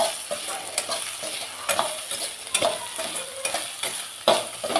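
Eggplant frying in oil in a pan as it is stirred, with a steady close sizzle broken by repeated scraping strokes of a spoon against the pan, no voices.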